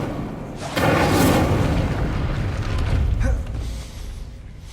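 A fire spell cast in Hogwarts Legacy lands as a loud whooshing boom that swells, sustains for about two seconds, then rumbles and fades, with no talk over it.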